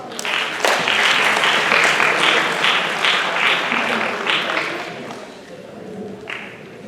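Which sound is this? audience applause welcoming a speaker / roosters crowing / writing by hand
audience applause welcoming a speaker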